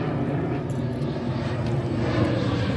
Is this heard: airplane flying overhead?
yes